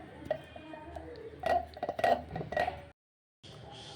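Yogurt being whisked by hand with a wooden churner (rai) in a bowl, giving soft scraping and clattering strokes in irregular bursts, fairly close and quiet, ending in a short silence.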